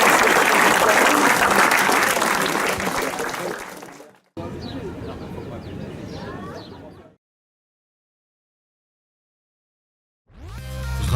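Audience applause at a gathering about train stations, loud sustained clapping for about four seconds, then a quieter patter of claps that fades into silence, with a brief burst of sound at the end.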